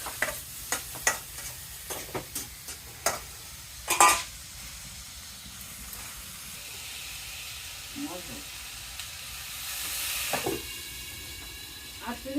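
Vegetables and spices sautéing in a pan at a village kitchen, with a few sharp scrapes and clinks of stirring early on, then a steady soft sizzle and hiss, moderately close and fairly quiet.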